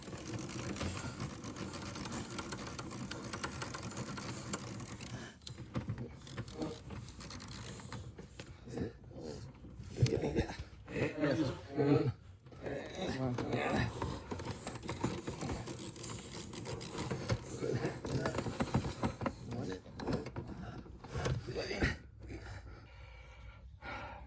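Wrench and deep-well socket working nuts off bolts through the firewall of a C3 Corvette during steering column removal: scattered metallic clicks, creaks and scraping in bursts with brief pauses, close and fairly quiet against a steady background hiss.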